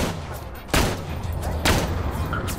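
Gunfire in Borderlands 2 with two sharp, loud shots about a second apart, over a steady background of game noise.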